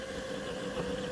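A small tractor engine hums steadily at close range in a garden, a constant mid-pitched drone with no pauses, and nobody speaks.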